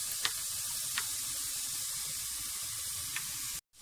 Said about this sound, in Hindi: अब इनको हमने बहुत अच्छे तरीके से फ्राई कर लेना है